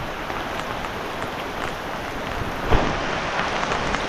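Heavy rain falls in a steady, dense hiss that stays loud throughout, with one brief thump near the end.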